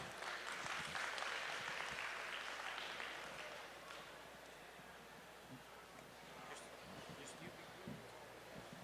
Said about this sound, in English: Please join me in giving a round of applause for Carol Wagonson.